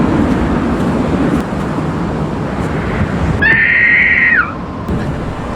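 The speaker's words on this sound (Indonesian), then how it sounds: "mendengar seseorang berteriak di dalam mobil karavan" A piercing, sustained scream rings out from inside a caravan in a film scene, rising abruptly over steady road and vehicle noise for about a second before cutting off.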